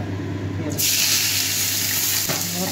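Chopped onion dropped into hot ghee and oil, already seasoned with cardamom and bay leaf, setting off a loud, steady hiss that swells sharply a moment in and continues as a dense sizzle.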